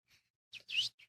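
A person imitates bird calls with a few brief, breathy chirps and whistles in quick succession, close and quiet with short gaps between them.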